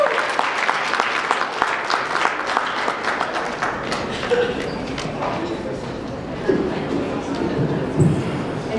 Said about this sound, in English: Give Miss Samira Schultz a round of applause